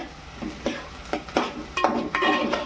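Onion and chilli fry in a pan with a steady sizzle, while a spoon scrapes and stirs in irregular strokes that grow busier toward the end, with no talking.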